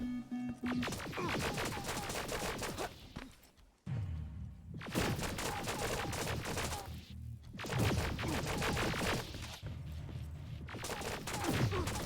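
Gunfire in the video game Terminator: Resistance, shooting at an enemy in Hollywood Hills: dense, sustained bursts of shots with sharp cracks and impacts, dropping out briefly twice before resuming, loud and continuous.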